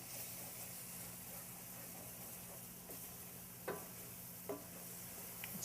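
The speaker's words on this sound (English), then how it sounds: "So you want to fry your onions in that." Quiet, steady sizzling of onions frying in grease in a pan, with a low hum beneath and a few faint clinks and scrapes.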